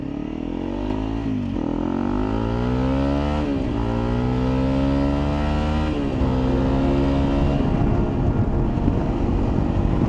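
A Honda CRF 300 Rally motorcycle accelerates hard onto a highway, engine pitch climbing through several gear shifts, loud and close under steady wind rush.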